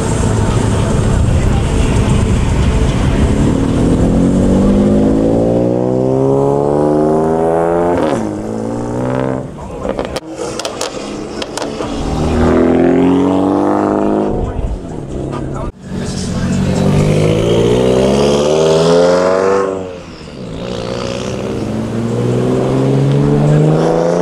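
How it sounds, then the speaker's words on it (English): Cars at a Clean Culture and Slammedenuff car meet in Daytona floor it one after another, engines climbing hard in rising, sweeping revs, with crowd chatter and voices throughout. "they all rev it, not rev it, they all floor it, ish, pull, they do a pull"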